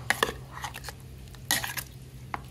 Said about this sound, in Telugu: అందులో దోసకాయ ముక్కలు కలిపేసుకుందాం